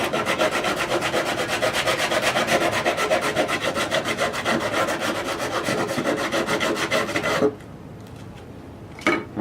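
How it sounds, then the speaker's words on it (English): Coarse-grit sandpaper wrapped around a piece of wood rasps back and forth in a steady, loud rhythm for about seven seconds, then stops, leaving near silence and one last brief stroke. "just wrap the sandpaper around the wood, hold it tightly, and now you can sand that right down"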